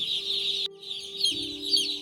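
Day-old broiler chicks chirp in a brooding house, a continuous chorus of high, close peeps over a steady machine hum.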